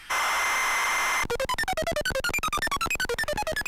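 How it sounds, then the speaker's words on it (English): ZX Spectrum cassette tape loading Nigel Mansell's Grand Prix: a second of harsh steady screech, then rapid rhythmic chirping bursts of shifting pitch, loud and continuous with no voices. "This particular cassette tape makes some very idiosyncratic noises while it's loading"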